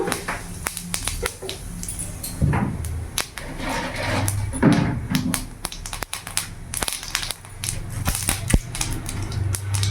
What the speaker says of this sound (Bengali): এবার এই তেলের মধ্যেই আমি এখানে জিরে ফোড়ন দিয়ে দিলাম